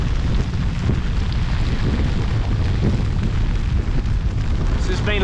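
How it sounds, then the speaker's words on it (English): Rain pouring onto a fishing boat on Lake Eufaula, a dense, loud, continuous hiss and patter with heavy buffeting rumble close to the microphone throughout. "Lots of rain."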